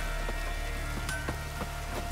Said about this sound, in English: Rain all you will.